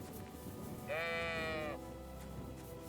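A single drawn-out sheep bleat from the video game Kingdom Come: Deliverance II, clear and close, rising out of a low steady background and fading after under a second.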